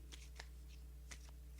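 Tarot cards are shuffled by hand in quiet, short papery bursts: a few quick flutters, a pause, then more, close and soft with no talking.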